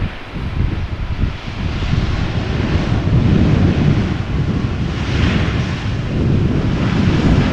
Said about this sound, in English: That wind is not slowing down just yet.